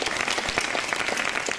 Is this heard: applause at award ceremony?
yes